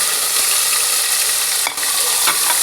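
Tomatoes sauté in a pan with ginger-garlic paste, giving a loud, continuous sizzle with scraping stirs, including one sharp stroke in the middle. No one speaks.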